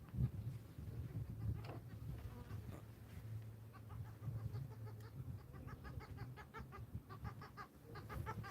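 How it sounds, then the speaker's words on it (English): Birds call in repeated short chirps near a saltwater fishing shore, growing busier toward the end over a steady low hum. "Get out of here, birds."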